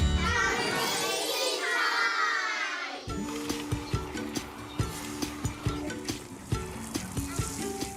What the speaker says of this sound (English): We're playing in the sprinkler.